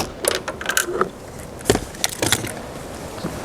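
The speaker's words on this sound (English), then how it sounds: "Just hold onto the mirror when you undo the last screw." A magnetic socket undoes the last screw on a plastic towing mirror of a Toyota Hilux N80 or Fortuner, with several close ratcheting clicks and light plastic taps in quick, uneven bursts.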